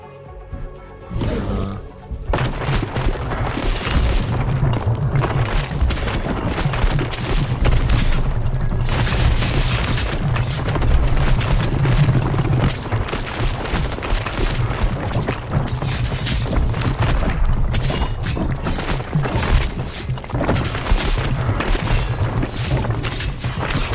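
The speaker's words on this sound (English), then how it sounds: "I think every little maggot is doing a nuclear explosion" Nuclear explosions in the video game Ball x Pit, a dense, continuous barrage of booms and crackling blasts that stays loud throughout with no gaps.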